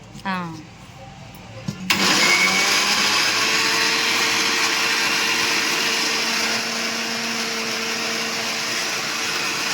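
A kitchen mixer grinder whirs loudly as it grinds masala for fish curry, starting abruptly after a brief moment of talk and then running as a steady, continuous high-pitched drone.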